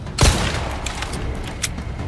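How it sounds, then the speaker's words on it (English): A handgun fires in Resident Evil 4 Remake VR: one loud, close shot near the start, then quieter clicks and handling noises of the weapon. "handgun"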